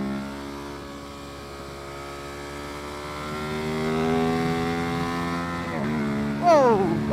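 A Ducati motorcycle on the Silverstone GP circuit screams along at high revs, its engine note climbing steadily through the gear before a quick shift and a sharp rise near the end, loud and close from the rider's position.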